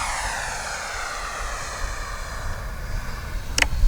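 A Freewing F-86 radio-controlled model jet, repaired after a crash, takes off with a loud whining engine tone that sweeps downward as it passes and moves away. A brief sharp click comes near the end, and no one speaks.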